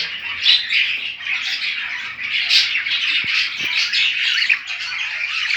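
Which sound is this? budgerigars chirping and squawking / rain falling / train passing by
budgerigars chirping and squawking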